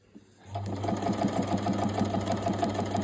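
A sewing machine runs steadily while stitching a seam on a child's headband, giving a close, even, rapid mechanical whir with a rhythmic needle patter and a low motor hum throughout.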